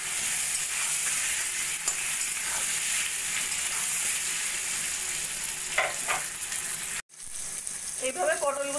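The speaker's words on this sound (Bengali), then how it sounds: "এবার পটলগুলোকে একটু ভালো করে ভাজা ভাজা করে নেব।" Pieces of pointed gourd fry loudly in a wok, a steady bright sizzle with stirring scrapes, briefly cut off near the end and then resuming.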